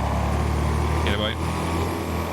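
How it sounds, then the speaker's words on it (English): Turbine-engined car in the Wreckfest racing game, a steady droning whine running continuously close behind, with a brief higher whistling rise partway through and no clear speech. "You can hear it just breathing down your neck, the turbine engine."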